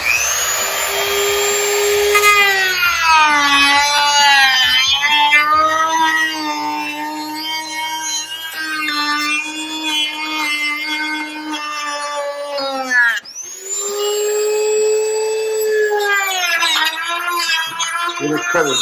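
A rotary tool whines at high pitch as it trims plastic Jeep JL/JT trim, its tone dipping and rising with the load, cutting briefly out and then resuming, close up and continuous.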